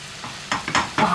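Minced meat frying in a pan without added ghee, with a spoon stirring it in short scraping bursts over a steady close sizzle, alone with no talk.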